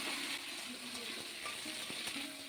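Cucumber pieces stirred in a pan with hot oil, a dried chilli and a bay leaf, giving a steady, close sizzle with scraping stirring strokes throughout and no talking.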